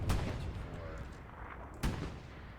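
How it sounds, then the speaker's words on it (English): Two Panzer IV tank cannon shots in a video game, sharp loud booms about two seconds apart over a low rumbling battle background. "Last couple shots from Panzer"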